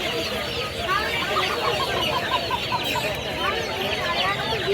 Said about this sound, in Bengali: সুন্দর সাইজের দেশি ছেড়ে দেওয়া কক মুরগি